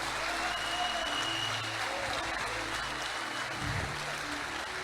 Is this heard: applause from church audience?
yes